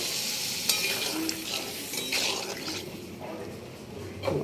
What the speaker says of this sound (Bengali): এবার ধোকাগুলো দিয়ে দেবো এর মধ্যে, দিয়ে পরিমাণ মতো জল দিয়ে দেবো।